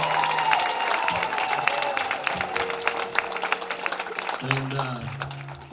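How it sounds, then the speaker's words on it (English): A concert crowd at a tour's final show in New Albany, Indiana bursts into applause with scattered cheers and whoops, sustained clapping throughout while someone speaks over it near the end. "so y'all should just clap one time for all of them."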